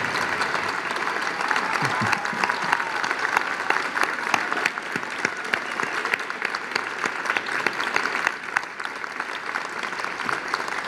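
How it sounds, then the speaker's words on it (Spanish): An audience applauds the coordinator of the restoration of an equestrian statue, with steady, moderately loud clapping sustained for about eleven seconds, some cheers and voices mixed in. "Merece un gran aplauso"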